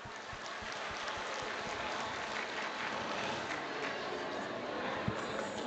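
An Indonesian audience at a community celebration applauds a speech with steady, sustained clapping, a dense, even patter that runs the whole stretch at moderate distance with no voices standing out.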